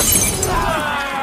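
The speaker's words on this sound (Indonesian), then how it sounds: "anggota Mighty main curang dengan memecahkan botol kepada Red Boys secara brutal" Glass bottle smashing during a brutal gang brawl in an action film, a loud bright shatter at the start with crackling shards trailing off over a dense, noisy fight background.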